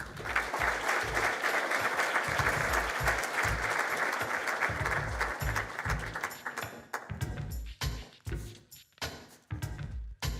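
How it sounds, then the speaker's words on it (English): An audience at an evening STEM awards ceremony gives a warm round of applause. A dense, steady wash of clapping fills most of the stretch, then thins into scattered, separate claps as it dies away. "give a warm round of applause for Mr. Delano White, the Executive Director of the Gaskins Foundation"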